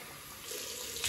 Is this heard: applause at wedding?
no